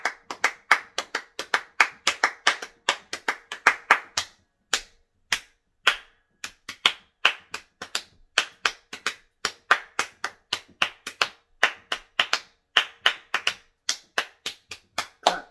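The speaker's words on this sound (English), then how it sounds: "Clap your hands, everybody." An audience claps hands in unison at an Africana celebration, doubling up the rhythm church-style: steady, crisp, close claps in quick repeated pairs, with one brief pause partway through.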